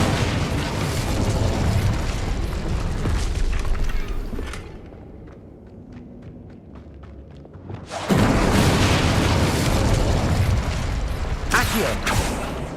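An Incendio fire spell cast in Hogwarts Legacy, a loud roaring burst and crackling rush of flame, dropping to a muffled rumble with faint mechanical ticks before surging back into a full, sustained blaze.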